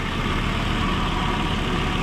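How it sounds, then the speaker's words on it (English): A 1996 Volvo 850R engine idles smooth and even, a steady low rumble with a constant hum and no talking over it. "Idle's good and smooth though."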